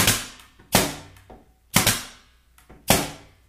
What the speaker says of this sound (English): so I'll shoot a few more nails in these